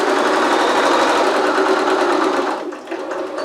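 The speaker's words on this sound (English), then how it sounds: "Back stitch just to hold it nicely." A sewing machine runs steadily and loudly, back stitching a seam on a fabric holiday wreath, then slows briefly near the end before picking up again.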